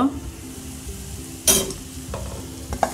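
Spices fry in a little oil over low heat in a pan, a steady close sizzle broken by a sharp utensil scrape partway through and a few light clinks, with no talk.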